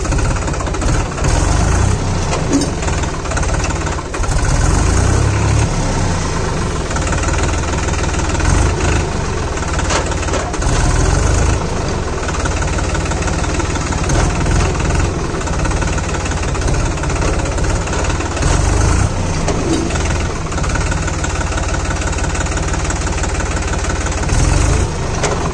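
A New Holland 3600 Heritage Edition tractor engine runs steadily while the gears are shifted, a loud continuous diesel rumble with slight knocking and brief dips in load throughout.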